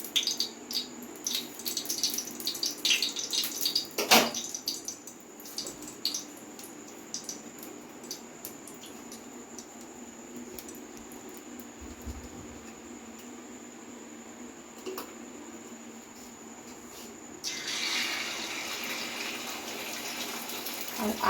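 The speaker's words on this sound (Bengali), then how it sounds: "হাতটা ধুয়ে নিই" Tap water runs and splashes as hands are washed, with a steady gush broken by brief clatters, a quieter stretch in the middle, and the flow growing louder again near the end.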